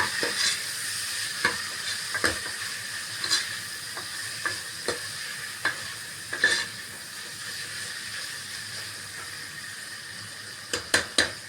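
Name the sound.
coriander and curry leaves frying in a pan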